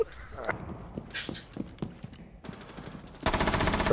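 Rapid gunfire from a first-person video game shooter crackles in repeated short bursts, then turns into a dense, loud barrage near the end.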